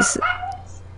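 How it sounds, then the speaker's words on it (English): A pet dog barks and yips in a home during an online gaming session, a few short sharp sounds near the start and one more toward the end, with a person's voice mixed in. "Whose dog is barking?"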